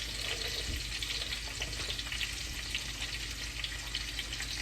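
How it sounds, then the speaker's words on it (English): Food sizzles steadily in a hot pan, a dense crackling hiss with faint pops, close and continuous with no talking. "I like to hear that sizzle."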